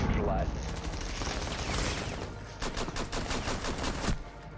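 Video game gunfire in a 1v2 match, with rapid bursts of shots that grow denser toward the end, mixed with in-game sounds and under excited player talk.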